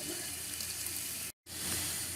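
Water runs steadily over clumps of mud being broken up and washed down from a take-home gem-mine bag at Rose Creek Mine, Franklin, North Carolina: a constant, full rushing wash that cuts out briefly and then resumes.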